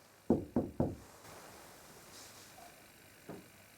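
Three quick, solid knocks rap on a wall in a hotel room, close and distinct, followed by quiet room tone and one softer, isolated knock a few seconds later.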